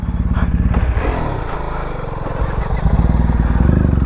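A BMW G310R motorcycle rides off-road as a dirt bike, its engine droning loud and steady up close with a rough, rumbling note and some clatter.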